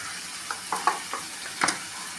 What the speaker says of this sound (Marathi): मसाले व्यवस्थित तेल सुकेपर्यंत परतून घेऊया